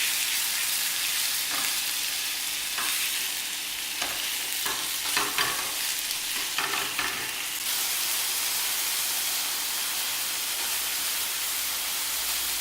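Beef for a pot pie sears in a hot pan with a steady, close sizzle, while a utensil is stirred through it in a run of scraping strokes that then settles into constant frying hiss.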